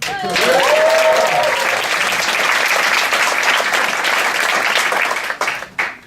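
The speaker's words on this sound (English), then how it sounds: "a round of applause for our Master of Ceremony" A comedy-night audience applauds the master of ceremonies, loud and continuous with a short vocal whoop near the start, then fades out with a few last scattered claps.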